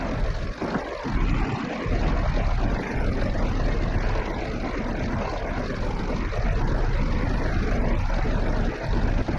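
A constant droning tractor engine in Farming Simulator 22 roars steadily without pause, loud and dense, with no voices over it.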